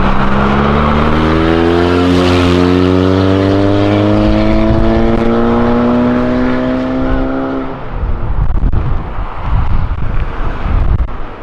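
Cars leaving a car event rev hard and climb in pitch as they accelerate, a loud rising whine, then fade into rough wind buffeting.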